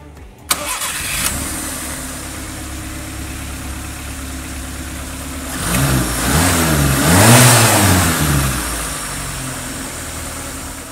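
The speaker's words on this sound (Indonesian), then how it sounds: "kita coba dengerin dulu suara mesin" A Honda Civic's 1300cc four-cylinder engine cranks and catches, settles into a steady idle, then revs up twice before easing back down.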